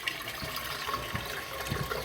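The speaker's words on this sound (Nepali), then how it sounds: "एउटा भाँडामा हामीले पानी राख्छौँ" Water runs steadily into a cooking pot while preparing a lapsi fruit pickle, a continuous moderate splashing pour with no talking.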